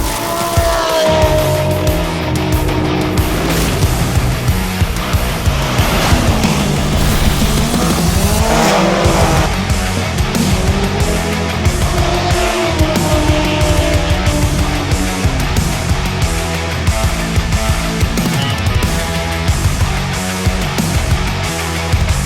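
Old rear-wheel-drive Bentley race cars at the Grand Prix Sopot Gdynia street race, engines roaring and tyres squealing and skidding through corners, loud and continuous with cars passing close by.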